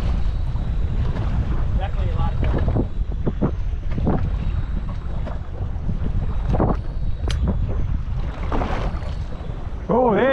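Stiff wind buffets a drifting fishing boat out at sea while fluke and sea bass are fished, roaring steadily with gusty bursts and wave slaps; voices talk faintly beneath it.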